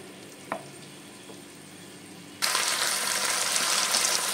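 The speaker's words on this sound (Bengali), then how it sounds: "এবার আমি এটাকে মেশাবো।" Chili chicken in a frying pan with onion and capsicum sits quiet with a faint clink, then bursts into a loud, steady sizzle for the last two seconds as it is stirred.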